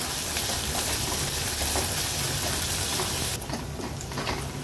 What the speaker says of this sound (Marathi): कांदा शिजवताना गॅसची फ्लेम मी थोडी लो करते आणि लो फ्लेमवर आपण कांदा शिजवून